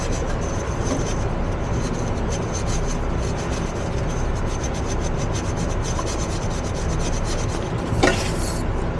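A red Scotch-Brite pad scrubs the sealing surface of a DEF injection nozzle on a 906 Sprinter, a steady close rubbing that continues throughout with one brief sharper scrape near the end.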